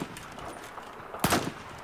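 A single missed rifle shot in Battlefield 4, one sudden crack about midway through, standing out above a faint, steady in-game background hum.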